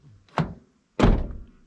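On a Toyota FJ Cruiser, a firm click of the outside door handle is followed by a heavier thunk as the door unlatches and swings open, two distinct close knocks.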